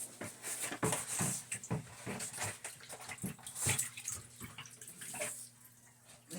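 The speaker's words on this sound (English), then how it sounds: "I'm just gonna lay this in here, submerge it in the water." Water sloshes and splashes in a bathtub as a cupboard door with wallpaper paste on its back is laid down and submerged, a series of close, uneven wet swishes and drips.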